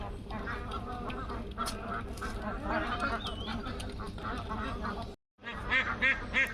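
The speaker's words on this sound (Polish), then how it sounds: "A tutaj jak widzicie to kaczuszki" Young ducks at an outdoor farm park enclosure quacking in a busy mix of calls and rustling, fairly near and steady, with people talking faintly in the background and a brief break near the end.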